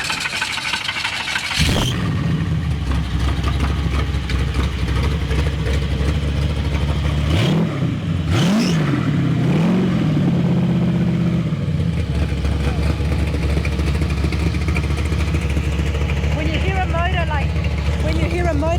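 A small hot rod at a mall car show and cruise block party rumbles loud and close, with a strong revving surge midway before settling back to a steady idle, while people talk nearby.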